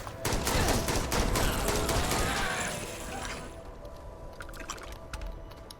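Heavy gunfire in the space game Starfield, dense rapid bursts close up for a few seconds, then thinning into scattered, fainter shots.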